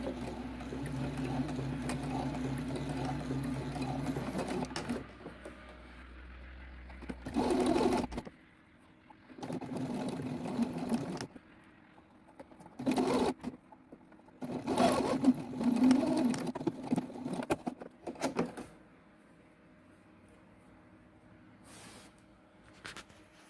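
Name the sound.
sewing machine stitching a seam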